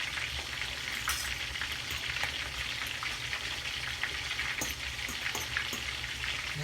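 Onions and carrots fry for a Jamaican escovitch sauce beside red snapper, giving a steady, dense sizzle that holds evenly throughout, with faint crackles and small pops scattered over the constant hiss.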